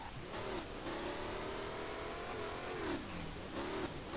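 A swapped LS engine struggling in a 350Z in the SLRR racing game, a strained mid-pitched drone rising and dipping through repeated revs, continuous and fairly quiet with no talking.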